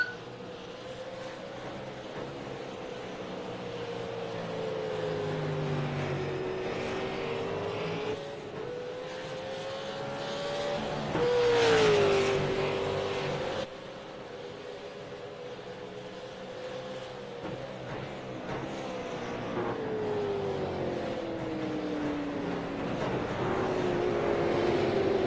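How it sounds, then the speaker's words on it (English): Race car engines whine and rise in pitch, dropping sharply with each gear change, then climbing again; steady roaring from cars at a distance. "it's nothing wrong with the transmission, it's just the sound of the car when they're shifting"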